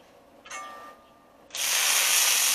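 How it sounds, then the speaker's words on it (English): Loud, steady sizzling of corn tortillas frying in oil on a Blackstone griddle, starting with a brief hiss and then swelling into a continuous crackle. "Listen to that sizzle"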